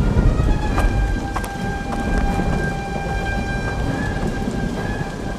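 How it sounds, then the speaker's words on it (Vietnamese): Heavy rain falls steadily in an animated cartoon, a dense, loud hiss throughout, with thunder rumbling at the start and sharp crackling strikes scattered across it. "Mưa lớn rồi"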